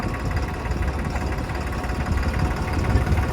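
A 3630 farm tractor's engine runs with a steady, close, low throbbing idle and a slight knocking vibration, alone without talk.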